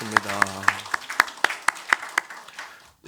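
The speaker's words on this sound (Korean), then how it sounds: "박수하겠습니다." A church congregation at a Sunday morning service claps in unison, producing sharp, evenly spaced claps at a brisk steady rhythm that thin out and stop. A voice is briefly heard at the start.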